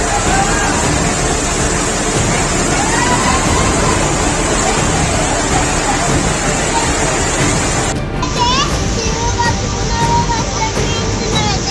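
Floodwater surges during heavy rain, a loud, unbroken rushing roar like pounding surf, with a faint murmur of crowd noise beneath it.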